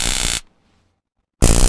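A handheld stun gun crackles in two loud, harsh electric buzzing bursts separated by a second of near silence, very close and dominating the sound.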